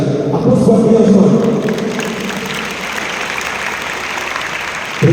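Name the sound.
audience applause at a film event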